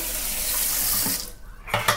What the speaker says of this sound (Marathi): तर 2 वाटी पाणी घेतले.